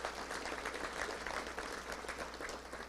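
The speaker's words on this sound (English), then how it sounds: "Let's give them both a round of applause." Sustained audience applause at a touchdown club luncheon honoring two university leaders, a dense, even wash of many hands clapping at moderate volume with no talk over it.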